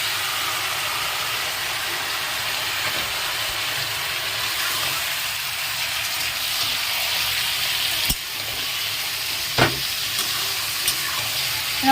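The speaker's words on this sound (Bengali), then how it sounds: "মাংসটার সাথে মশলাটা ভালো করে মিশিয়ে নেব নাড়িয়ে" Duck meat frying in a pan with a ground paste of onion, garlic, ginger, cumin and chilli, a steady loud sizzle throughout with a few sharp scrapes of stirring near the end, no voices.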